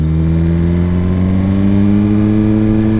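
A 2019 Suzuki GSX-R1000R motorcycle engine runs close and loud with a steady, rising drone, its pitch climbing slightly as it revs. No voices are heard.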